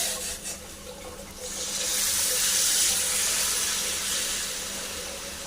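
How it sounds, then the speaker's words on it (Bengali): Hot water poured into a vegetarian ash gourd curry with birli dal simmering in the pot: a steady, rushing pour begins after a moment and carries loudly to the end, with no talking. "এবার দিয়ে দেব জল।"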